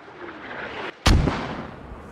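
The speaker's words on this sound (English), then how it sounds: "Mortars are going out in this. They're really far off though." A single heavy mortar impact booms in a military video game, arriving abruptly with a rumbling tail over a steady ambient background of distant battlefield noise.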